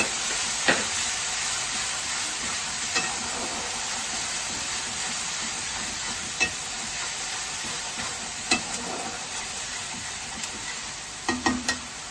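Ground onion paste sizzles in hot oil in a pan for a chicken kosha, a dense steady hiss with a few sharp crackles and pops scattered through it, up close and with no talking.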